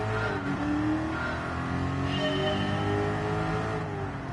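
A stock road car engine in Gran Turismo 7 revs and climbs through the gears, steady and fairly loud throughout, with shifting engine pitch during a race.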